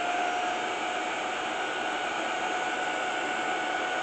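An Ultenic V12 Vesla cordless stick vacuum cleaner running after being switched on, a steady, even, high-pitched motor whoosh with a faint whine, close by and constant throughout with no voices.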